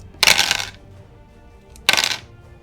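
Dice rolled during a Deadzone tabletop wargame, two separate bursts of hard rattling and clattering on a surface, close and loud, with quiet gaps between and no talk.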